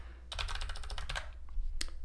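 Rapid keystrokes on a computer keyboard while writing code, a dense burst of clicks for about a second, then a pause and a few scattered taps, close and clear with no talking.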